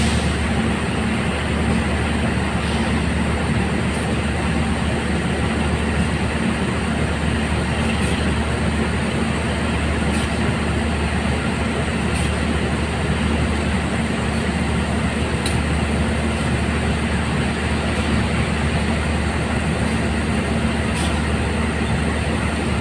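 The KA Parahyangan passenger train rolls along the rails toward Bandung, a constant loud rumble from inside the carriage with faint periodic clicks of wheels over rail joints and no talk.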